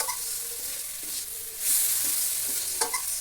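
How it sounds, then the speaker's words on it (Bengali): Fried potato pieces and spice paste being stirred in a pan, a quiet sizzle with soft scraping strokes and a few light clinks, close up and without talk. "কিছু সময় আমি নাড়াচাড়া করব আলু আর মশলা।"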